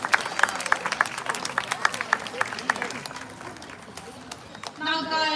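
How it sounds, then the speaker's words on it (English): An audience claps at an outdoor bird show featuring a spotted eagle owl, with brisk, steady applause from a moderate crowd. A voice speaks briefly as the clapping fades near the end. "Let's give her a big round of applause."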